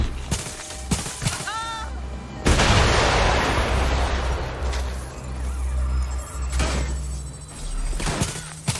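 Gunfire and heavy impacts in the video game Watch Dogs Legion, with a few sharp shots, then a loud sustained booming blast and more bangs over ambient game noise.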